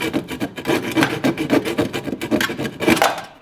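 Wood saw hand-cutting through a rubber heater hose while pulling a 1HD-T engine from a 6x6 Land Cruiser 80, a steady rasping back-and-forth rhythm of close, fairly loud strokes with no talk.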